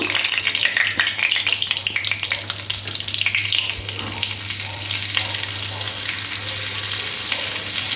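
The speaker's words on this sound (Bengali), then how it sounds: "প্রথমে কড়াটা গরম হয়ে যাওয়ার পরে কড়ার মধ্যে একটু সাদা তেল নিয়ে নিলাম তারপর একটু বাটার দিয়ে দেব" White oil and butter heating in a hot wok in a home kitchen, making a steady, close crackling sizzle that holds throughout under a low constant hum, with no talking.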